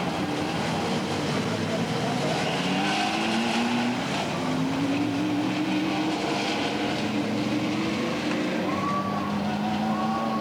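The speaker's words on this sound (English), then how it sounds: "These two cars on the racetrack right now, Randy Olson and Jim Walker have main event" Super stock race cars circle the oval at Redwood Acres Raceway in 1989, their engines droning and rising and falling in pitch as they pass, loud and continuous throughout.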